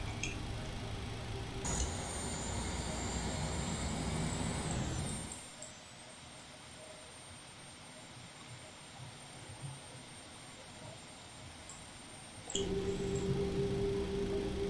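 A Boeing 737-300 engine spools up in a flight simulator, a loud steady turbine roar and hiss that drops to a quieter rumble midway, then surges back with a rising whine.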